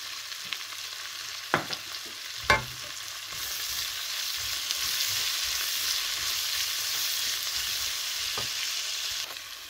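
Onions frying in a pan for bhindi masala give a steady, close hiss of sizzling oil throughout, with a couple of sharp clicks near the start and no talking.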